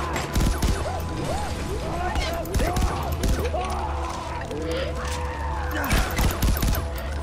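Pistol shots and other gunfire from the video game Far Cry 4 crack out in scattered bursts over in-game voices and shouting, mixed with clatter and ambient game noise.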